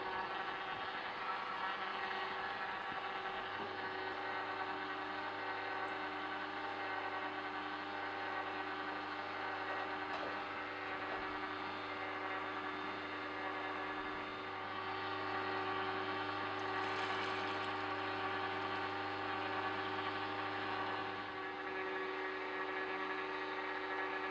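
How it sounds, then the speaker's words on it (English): A Sana EUJ-909 juicer squeezes five oranges, giving off a steady, close motor hum and whir that runs almost unchanged from start to finish, with no talking. "So I'm juicing 5 oranges here."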